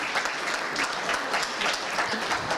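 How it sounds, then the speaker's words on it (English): An audience at a water research partnership roadshow in the Eastern Cape applauds a professor, with continuous, even clapping from many hands, moderately distant and sustained throughout. "I think we should give Prof a rounding applause."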